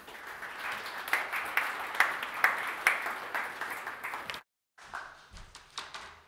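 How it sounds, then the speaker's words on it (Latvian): Audience at a farmers' organisation conference applauds as the chairman of Zemnieku saeima, Juris Lazdiņš, is welcomed, dense clapping at moderate volume that breaks off abruptly, then resumes more thinly with scattered claps. "Sagaidām ar aplausiem."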